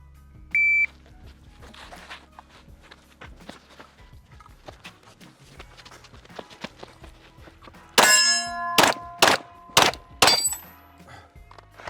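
Pistol bullets striking steel target plates during a concealed-carry shooting drill: a quick run of five or six sharp, loud cracks with ringing metallic clangs, after quieter scattered clicks and knocks.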